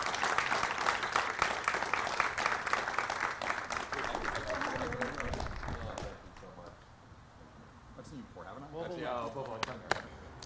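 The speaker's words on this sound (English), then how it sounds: "So right now, please give a round of applause" Audience applause at an annual meeting, dense clapping filling the room for about six seconds before thinning into scattered claps and murmuring voices.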